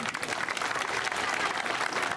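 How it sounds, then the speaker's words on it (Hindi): Audience applause at an outdoor Lok Sabha 2024 election rally in Guna, steady dense clapping from a crowd filling the whole moment without pause. "आशा जी के लिए ताली बजाओ।"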